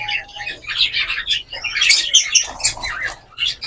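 White zebra finches chirp close by in a quick, busy run of bright overlapping tweets and calls, with brief dips between clusters.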